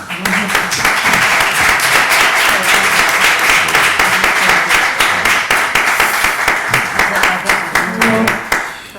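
An audience at a colloquium applauds the panel of speakers, a loud, sustained wave of clapping that stays strong and then thins into scattered claps near the end.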